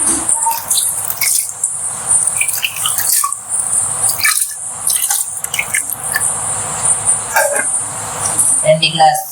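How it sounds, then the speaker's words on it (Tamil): Water is poured into a pot for goat leg soup, splashing and trickling in bursts while a person talks throughout. "4 கிளாஸ் தண்ணிக்கு வந்து நான் 6 கிளாஸ் தண்ணி ஊற்றிக்கிறேன்."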